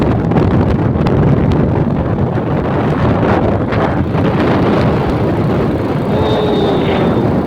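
Strong cool wind buffets loudly and continuously across a large open field, roaring and rumbling with gusty rushes throughout, no voices.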